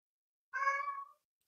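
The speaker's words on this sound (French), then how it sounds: "vous venez d'entendre mon chat à l'ouverture de la caméra" Domestic cat giving a single clear meow, about half a second long, close by and alone against silence.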